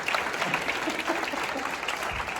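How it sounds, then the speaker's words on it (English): A room of people at a live business mentoring event claps in a dense, continuous burst of applause, fairly loud and steady throughout. "can we please give all four of them a big round of applause?"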